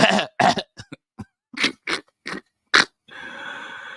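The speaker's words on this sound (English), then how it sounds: "let me clear my throat" A series of short, rough throat-clearing bursts and coughs in quick succession, close and fairly loud, ending with a brief tonal hum.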